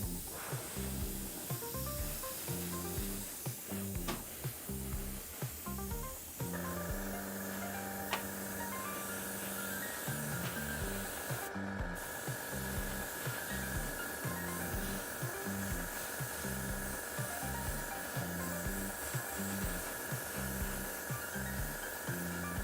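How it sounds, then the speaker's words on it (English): A paint sprayer that is starting to clog sends out a steady, close hiss at an uneven angle, over a repeating mechanical rhythm and a constant hum that grows louder partway through. No one speaks. "Feel like it's starting to clog up. You can see the spray coming out at like a weird angle."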